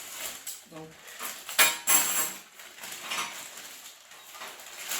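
Metal ice cream spoons clink and rattle against each other as they are handled, with a few sharper taps near the start and a louder jingle around the middle, plus soft rustling.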